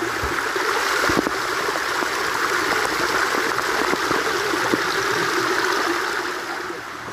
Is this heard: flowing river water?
yes